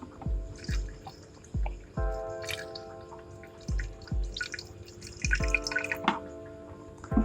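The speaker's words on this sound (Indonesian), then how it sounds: "Nah, sedikit-sedikit, baru tambahin air lagi." Water is poured slowly into a low-tech Iwagumi-style aquascape tank, giving a string of distinct drips and small plops at an irregular pace, with faint bubbling and trickling between them.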